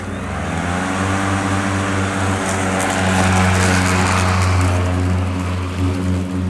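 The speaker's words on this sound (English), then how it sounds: "quick little mow of the lawn with the Ego lawnmower" An Ego lawnmower mows a garden lawn, giving a steady, loud electric drone with a tonal hum that runs through the whole stretch, close by with no talking.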